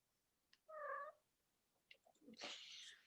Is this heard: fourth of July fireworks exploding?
no